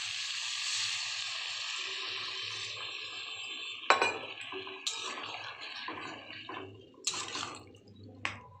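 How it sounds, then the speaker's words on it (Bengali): Water is poured into a pan of potato and cauliflower curry, a soft splashing pour followed by a sizzle and several sharp clinks of a utensil against the pan. "জল ঢেলে দিলাম"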